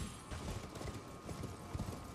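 Faint, steady clip-clop of a horse's hooves in the fantasy action game Elden Ring, an irregular soft trot set under a dense wash of ambient game sound.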